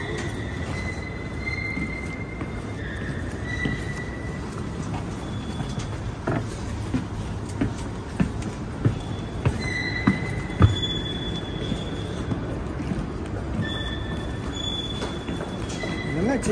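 A Montreal metro train rumbles steadily along the track while its wheels give off intermittent high-pitched squeals and there are occasional clunks, with faint murmuring passengers in a filling car.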